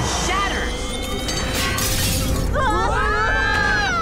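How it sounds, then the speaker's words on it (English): Crystal glass shatters in a cartoon as a loud, bright crash with a sustained glittering tail, heard over the steady rumble of an animated action scene with characters' voices. "It shatters!"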